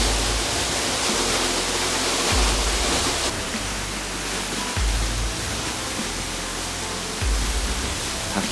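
Tanashita Fudo Falls in Gunma pours into a plunge pool enclosed by surrounding rock, a loud, steady broadband roar of falling water that echoes, with low rumbling pulses recurring every couple of seconds.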